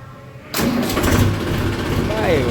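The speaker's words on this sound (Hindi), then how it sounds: "करते हैं जी मैसी को स्टार्ट।" A Massey Ferguson tractor, idle for several days, cranks and catches about halfway through, then settles into a loud, steady diesel idle with a slight rev, while someone speaks over it.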